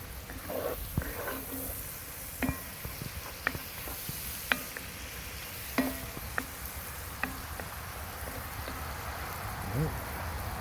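Kale and corned beef in bacon grease sizzle over an outdoor wood fire, with a constant crackling hiss broken by sharp clinks and taps of a utensil at irregular intervals.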